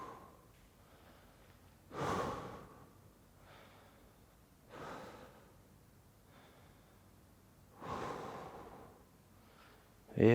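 Slow, deep breaths come during a glute prehab and cardio exercise session, with three soft, drawn-out breath sounds at even intervals over quiet background.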